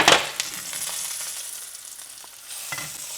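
Garlic and pepper sizzle in a pan for zucchini, a bright hiss that flares as ingredients drop in, then a steady fry with light stirring scrapes, up close.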